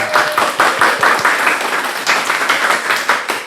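A studio audience claps for Indra Jegel on a podcast set, with dense, lively applause holding steady and close throughout, with a faint voice briefly in the background.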